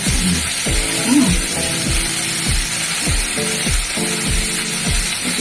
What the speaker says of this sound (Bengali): সিমটা ভাজবো আলাদা করে তেলে ফেলে দিয়েছিলাম